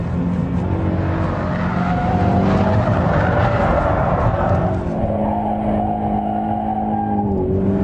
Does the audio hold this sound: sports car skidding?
yes